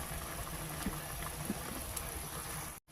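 Hot water goes into a simmering pot of nilaga pork-rib soup broth, giving a steady, close bubbling and watery rush that fills nearly three seconds before cutting off abruptly at the end.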